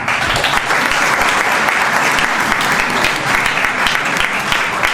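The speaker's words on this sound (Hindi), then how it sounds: "कोई आधी तालियां आगे से लग रही है, वो भी इधर आधी, कोई स्टूडेंट बाकी ऐसे ही ऐसे कर रहे हैं।" Students clap together at a school gathering, a loud, continuous burst of dense hand claps from a sizeable group. The applause stays even and close throughout, with no voices rising above it.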